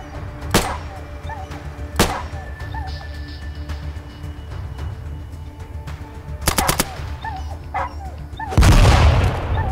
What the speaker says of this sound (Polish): O kurde, gościu rzuca granatem i to skutecznie